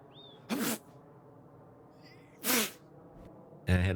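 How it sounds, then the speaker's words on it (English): Three sharp sneezes from a person, one near the start, one in the middle and a third right at the end, each a loud burst against a quiet room. "I had to pause for sneezing there"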